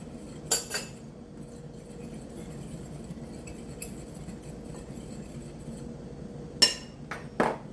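A fork works salt into biscuit flour in a bowl, giving a few sharp clinks against the dish near the start and again near the end, with quiet, soft stirring in between.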